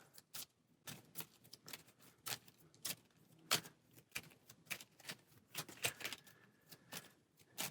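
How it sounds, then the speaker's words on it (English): Aeons End board game cards are shuffled in repeated quick riffling bursts, a string of crisp papery snaps and flutters heard close up and alone, with brief pauses between shuffles. "And shuffle for the next round."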